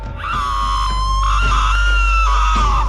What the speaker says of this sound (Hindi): जिससे वो चुड़ैल चिल्लाते हुए मर जाती है